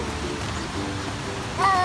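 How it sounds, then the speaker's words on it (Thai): Seven Sisters waterfall in Saraburi, Thailand, gives a steady broadband rush of falling water, fairly loud and continuous, with a brief higher-pitched tone near the end. "น้ำตกเจ็ดสาวน้อยนะ ที่จังหวัดสระบุรี"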